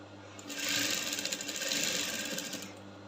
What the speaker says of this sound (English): that is where I'm sewing